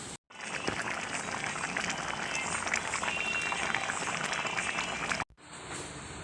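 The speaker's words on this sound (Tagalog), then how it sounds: "Ayan, pakuluan natin ulit." A pot of dish simmering with coconut milk boils vigorously, a dense continuous bubbling roar heard up close, briefly cut off near the end before resuming more faintly.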